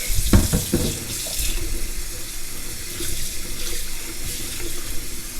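Model kit parts for a Tamiya TD2 Stealth Fighter rinsed under a running tap into a sink, a steady close rush of water with a few splashy bursts near the start, no voices.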